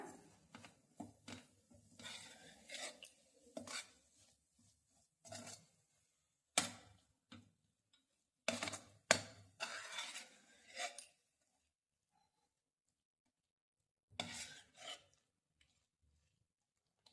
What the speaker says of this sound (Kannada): ರುಬ್ಕೊಂಡಿರೋ ಏಲಕ್ಕಿ ಮತ್ತೆ ಕಾಯಿ ಹಾಕೋಣ. ಚೆನ್ನಾಗಿ ಮಿಕ್ಸ್ ಮಾಡ್ಕೊಳ್ಳೋಣ.